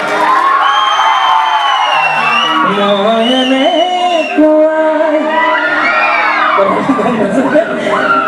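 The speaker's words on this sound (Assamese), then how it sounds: "জোৰকৈ হাত চাপৰি হ'ব লাগে এটা উকি হ'ব লাগে" An event audience cheers and whoops loudly, with shouting voices rising and falling over a continuous crowd roar, close and energetic throughout.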